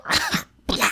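A deliberately fake cough, two rough, breathy bursts split by a short silence, close to the microphone and loud, with no speech around it.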